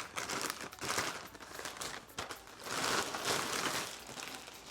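Plastic bag crinkling as Tesla Model 3 18-inch Uberturbine wheel covers are unpacked, close crackling bursts coming in uneven waves with brief pauses.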